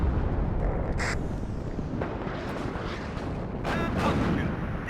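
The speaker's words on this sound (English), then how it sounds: "Just artillery flying everywhere right now." Artillery barrages in the Cold War wargame WARNO, a dense rumble of distant booms and blasts rolling continuously, with a couple of sharper bursts standing out over the steady low roar of battle.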